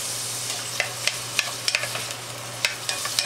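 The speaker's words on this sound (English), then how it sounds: "Go ahead and put these onions in here. Give them a little trip through the butter." Onions sautéing in melted butter in a soup pot, a soft continuous sizzle with scattered light clicks of stirring, close and fairly quiet, a low hum underneath and no talking.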